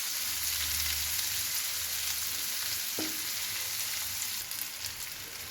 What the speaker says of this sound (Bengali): পেঁয়াজটা যেই হালকা ভাজা হয়ে যাবে